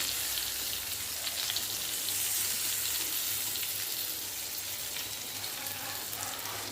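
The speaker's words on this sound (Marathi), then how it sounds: "आता हे पलटून घेऊया आपण अशा पद्धतीनं" Stuffed green chillies frying in oil in a pan, a dense steady crackling sizzle throughout with faint clicks as they are flipped, close and fairly loud with no talk.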